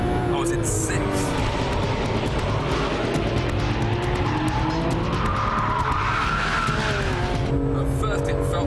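Porsche 911 GT3 RS driven flat out in fourth gear at about 146 mph, engine roaring loud and steady with tire and wind noise throughout, someone talking over it.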